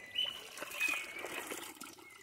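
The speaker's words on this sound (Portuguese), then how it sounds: "essa nascente de água geladinha, fresquinha" Soft, steady trickling water from a cold mountain spring close by, a continuous gentle flow with faint bird chirps drifting in from the background.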